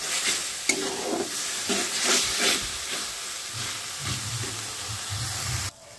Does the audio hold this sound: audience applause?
no